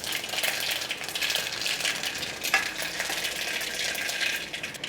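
Mustard seeds and cumin sizzling in hot oil for tempering dal, a steady bright crackling hiss with small pops, close and even throughout.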